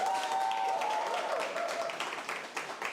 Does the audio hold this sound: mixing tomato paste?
no